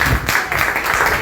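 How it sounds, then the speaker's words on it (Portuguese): Church congregation clapping during a Santa Ceia evening service, a dense burst of close, loud applause that fills the short moment, with a voice faintly mixed underneath. "aplauda o nome dele essa noite"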